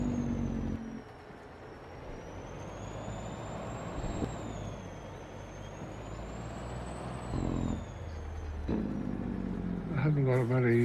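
A truck drives in a farming video game, its engine a steady mechanical drone with a faint whine sweeping up and down, brief air-brake hisses, and beeps near the end.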